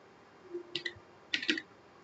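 A few keyboard keys tapped in two short bursts while entering an Excel formula, quiet and close, with a faint hum underneath and no one talking.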